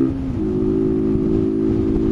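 A motorcycle underway, recorded through a wired external microphone, its engine a loud steady hum with a rising pitch early on and wind rumble beneath.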